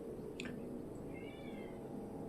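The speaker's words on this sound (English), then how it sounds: "You can probably hear my cat meowing." A house cat gives two short meows, a quick high one and then a slightly longer, softer one. The calls sound close but faint over a quiet room hum.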